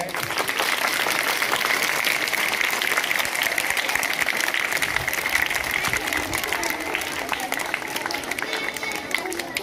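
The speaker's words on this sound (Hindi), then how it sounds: "इनके लिए एक बार जोरदार तालियां हो जाए" A crowd gives loud, sustained applause for the 71 young participants at a local community event, steady dense clapping that fills the whole span.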